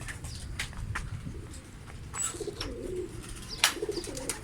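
Soft, low cooing of an Akbaş pigeon close by, a few gurgling coos in the second half, with light rustling and scattered clicks around it.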